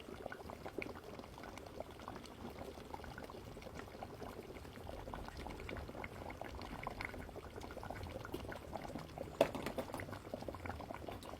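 Asam pedas fish curry with kesum leaves bubbles in a pot, a soft continuous simmering boil with small liquid pops, close and quiet, no voices.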